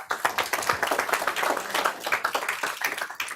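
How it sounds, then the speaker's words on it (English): Residents in an audience give another round of applause after a talk by Nancy Sandgren on Norman Rockwell, a quick, fairly close patter of many hands, uneven and lively, alone without speech. "Another round of applause, please"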